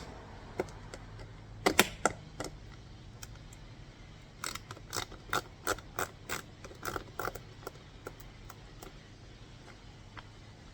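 Tiny screws being removed from interior trim on a 2023-or-later Honda CR-V, heard as sharp clicks and ratcheting ticks in a scattered rhythm, close and moderately loud, with a quiet pause partway through and no talk.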